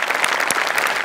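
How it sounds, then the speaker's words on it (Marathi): An audience applauds and claps loudly for a performer on a comedy stage show, a dense continuous burst of applause that stays strong throughout. "मस्त जोरदार टाळ्या शिवालीसाठी"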